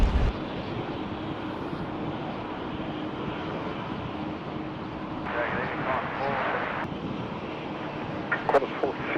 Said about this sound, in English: this coming in now is Qantas 68, the A332 coming in from Bengaluru